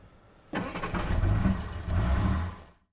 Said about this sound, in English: let's fire it back up and see how it goes